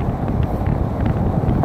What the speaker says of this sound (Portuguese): O vento não ajuda, é extremamente forte.